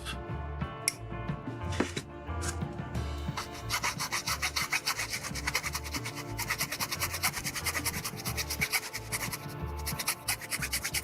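A small part from a vintage 1/60 Bandai Patlabor Brocken plastic model kit is rubbed down with a file or sanding stick, making close, steady rapid scratching strokes that continue throughout.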